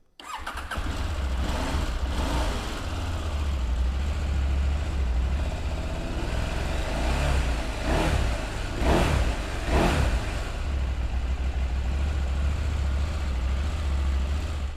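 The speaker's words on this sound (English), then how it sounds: "So let's fire this one up and have a listen." A KTM 790 Adventure motorcycle engine is fired up and runs loud and close, settling into a steady idle with a few sharp revs rising and falling midway through.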